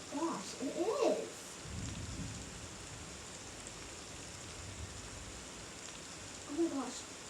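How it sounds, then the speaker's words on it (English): A thunderstorm brings constant rain hiss and a low rolling rumble of thunder through the middle, with voices talking at the start and again near the end. "While this video is going, we're having a thunderstorm."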